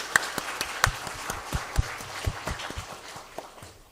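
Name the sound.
congregation clapping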